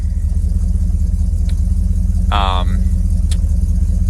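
A Ford Thunderbird engine idles while warming up, a steady low rumble running unbroken throughout, with a brief high chirp near the middle.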